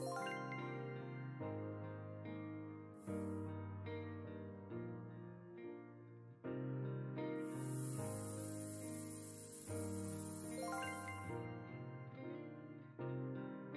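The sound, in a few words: spray painting a toy in the video game Toy Tinker Simulator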